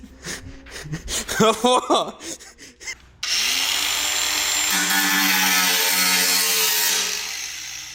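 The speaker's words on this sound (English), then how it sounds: "Start the grinder first, then go into it." An angle grinder spins up and cuts at about three seconds on a project Toyota Cressida with a Barra engine. It then runs as a loud, steady whine with harsh cutting noise to the end, after close talking at the start.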